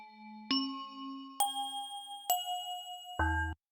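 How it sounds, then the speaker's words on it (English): A pitched-up vibraphone handbell sample rings out four bright notes, each with a sharp strike and a shimmering sustain, the last one cut short, with no talking. "So it's this vibra handbell"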